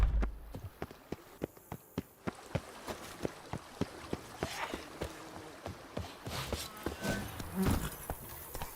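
Roach, the horse in The Witcher 3: Blood and Wine, clops along with sharp, evenly spaced hoof strikes, near and distinct, speeding up into a denser patter later on, with no voices.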